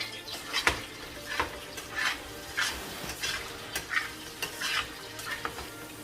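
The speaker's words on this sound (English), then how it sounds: "So I'm gonna fry them into the butter" Small pieces of potato fry in butter in a pan, a soft steady sizzle broken by repeated scraping and stirring strokes roughly every half second, close and moderately quiet, with no voices.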